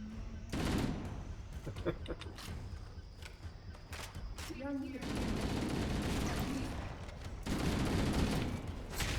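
Weapon fire in the Halo game during a fight against the Flood, with dense bursts of shots and broadband crackle through most of the stretch, swelling again near the end, while a voice talks over it.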